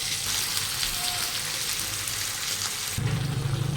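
Onions sizzle steadily in hot oil with whole garam masala spices, a dense continuous frying hiss that thickens near the end as more goes into the pan for a mutton curry.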